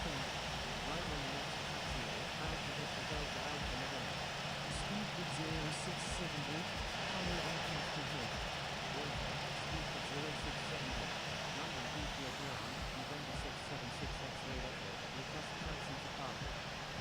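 A steady, droning aircraft engine hum while taxiing in a flight simulator game at London Heathrow, continuous and even throughout, with voices talking over it.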